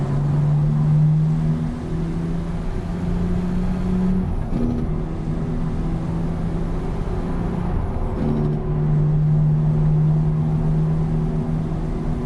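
An engine-braking truck in American Truck Simulator drones with a loud, steady low rumble that shifts pitch twice as gears change, sustained and close without talk over it.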